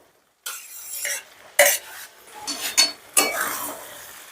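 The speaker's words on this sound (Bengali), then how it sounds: "বেগুনটা মশলার সাথে আলতো হাতে মিশিয়ে নিয়ে" Fried eggplant gently stirred into spice paste in a pan over low heat, heard as a few separate scraping and clinking strokes of a utensil against the pan, close and moderately loud, with short pauses between them.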